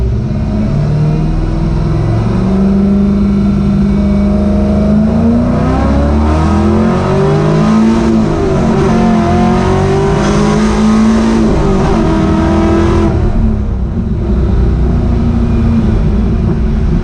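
A car engine breathing through a 180 degree header exhaust, revving loud and close at light throttle, pitch climbing smoothly through pulls and gear changes with a raspy, continuous tone, no voices.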